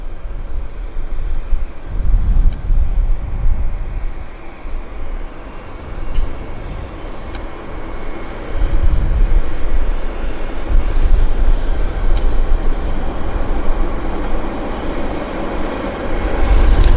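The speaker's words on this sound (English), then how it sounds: "No, it's it's Air Canada from Mexico City." An Air Canada airliner arriving at Vancouver after a five-hour flight from Mexico City, a low rumbling engine roar that surges in uneven waves, rising and easing over the stretch, without voices.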